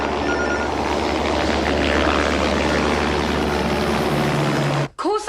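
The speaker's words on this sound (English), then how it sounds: "What's that noise? Helicopter?" A loud, steady helicopter engine drone with a whirring rotor roar fills the clip, then cuts off abruptly near the end.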